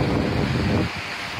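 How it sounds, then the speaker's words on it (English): Surf rushes and breaks in a steady roar with strong wind buffeting the microphone, easing slightly near the end. "look at those waves. That's breaking it up over there."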